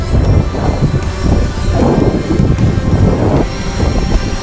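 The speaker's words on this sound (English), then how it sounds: "It's a little gust of breeze here," Loud wind buffets the microphone during a Fimi X8 SE drone's outdoor flight, a continuous low rumbling roar that surges in gusts throughout, with no voices.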